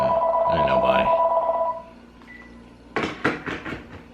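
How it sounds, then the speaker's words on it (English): A phone rings with a tonal electronic trill, then fades, and a few short clattery knocks and bumps follow in a kitchen being remodeled with vinyl plank flooring. "my phone ringing again"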